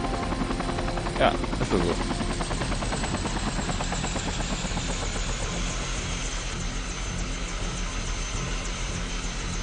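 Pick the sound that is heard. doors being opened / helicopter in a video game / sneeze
helicopter in a video game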